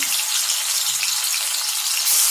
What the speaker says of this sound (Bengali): এখন আমি কড়াইতে তেল দিয়ে দিলাম। মাছগুলো ভেজে নেব।